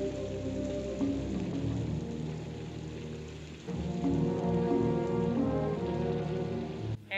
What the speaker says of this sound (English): And then they sit in their tents and wait out the rain.